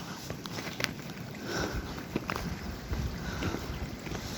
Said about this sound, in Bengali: পুরো নদীর মতো বইছে ঝর্নার জল